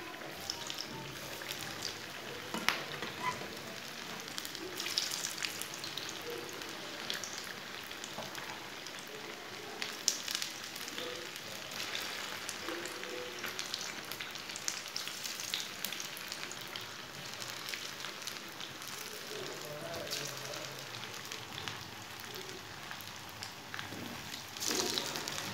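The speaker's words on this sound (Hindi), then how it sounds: "टिक्कियों को 2 मिनट के लिए फ्राई होने देंगे, बाद में इसे उल्टाते हैं।" Potato tikkis frying in a pan over medium heat, giving a soft, continuous sizzle that crackles evenly and stays faint throughout, with no voices.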